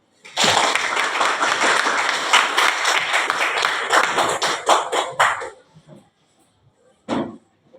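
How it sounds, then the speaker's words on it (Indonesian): Classroom listeners clap in a lively burst of rapid, uneven handclaps, loud and close, which stops abruptly after about five seconds, followed by near silence and one brief final clap. "Tepuk tangan."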